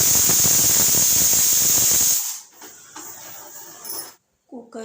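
A pressure cooker on the stove hisses loudly with a steady jet of steam for about two seconds, then cuts off, leaving quiet kitchen clatter and a brief voice at the end.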